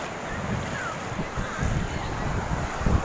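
Rough sea waves churning near the shore, a steady low roar with gusty wind buffeting the microphone and swells rising toward the end, with faint talking in the background.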